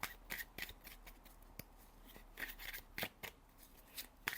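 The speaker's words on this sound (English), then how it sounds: "Give it a little shuffle." Tarot cards are shuffled close by in quick papery riffs and flicks, several short bursts with brief pauses between them.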